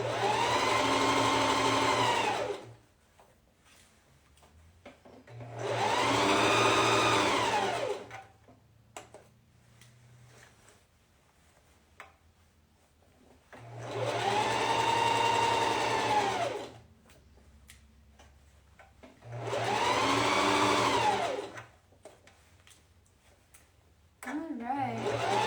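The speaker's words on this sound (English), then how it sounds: "We're just going to sew it onto the front bodice now" Four bursts of a sewing machine stitching a bodice onto a front bodice, each running a few seconds with steady motor whine, separated by quieter pauses with soft handling sounds.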